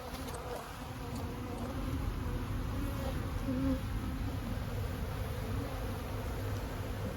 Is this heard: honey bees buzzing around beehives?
yes